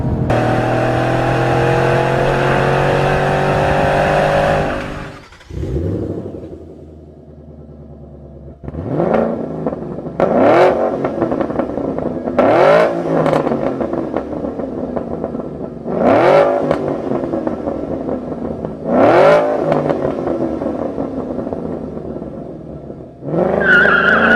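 A car fitted with a Borla sleeper exhaust roars loudly, then after a brief lull gives a series of sharp throttle blips, each rev rising and falling in quick succession, close and alone.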